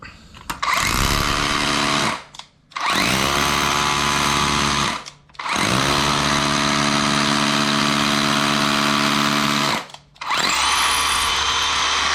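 A DeWalt 54V hammer drill, rebuilt, running in hammer mode roars loudly and steadily in three long bursts, stopping briefly between each, with a harsh grinding, buzzing tone.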